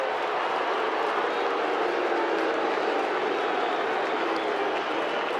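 A packed crowd at the SCG during the 2004 Round 19 Kangaroos vs Sydney football match makes a loud, steady, unbroken roar of massed voices, discontented in mood.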